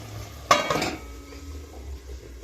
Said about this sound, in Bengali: আমি এখানে দু থেকে তিন মিনিট ঢাকা দিয়ে একটু গ্যাস স্লো করে ফুটিয়ে নেব